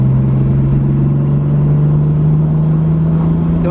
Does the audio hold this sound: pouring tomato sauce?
no